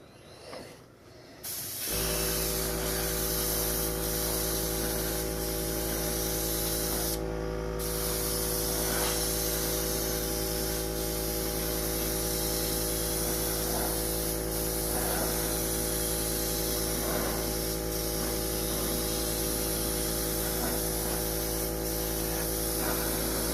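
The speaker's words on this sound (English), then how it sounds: "So now I'm going to do a nice continuous spray" Steady, loud hiss of a spray can painting an RC drift car body, a Pantera DeTomaso, held as one continuous spray for over twenty seconds with a brief break near the start.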